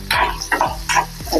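Green chilies and onion sizzling in hot tempering oil with hing while being stirred, loud close frying with rhythmic scraping strokes of a spoon about every half second.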